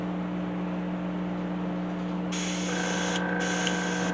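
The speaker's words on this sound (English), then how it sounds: "I want to spray the scales this way," Spray painting scales onto a handmade cedar wood musky crankbait lure: a steady airy hiss starts partway through, pauses briefly and resumes, over a constant low electrical hum with no talking.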